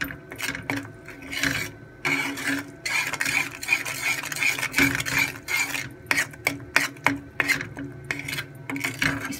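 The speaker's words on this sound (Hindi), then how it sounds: "चम्मच मुसलसल चलाना आपने।" A spoon stirs peanut chikki mixture in a pan over a low flame, scraping and rubbing against the metal in a continuous, uneven rhythm of short strokes, close and distinct with no speech.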